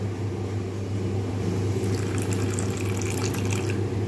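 Water flows steadily and close by onto ground spices (coriander, cumin, chili and turmeric powders) to make a paste, with a continuous splashing, pouring wash throughout.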